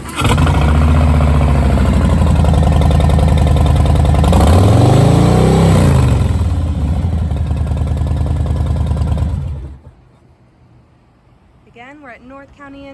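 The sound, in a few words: 2018 Harley-Davidson Softail Low Rider engine with Vance & Hines pipes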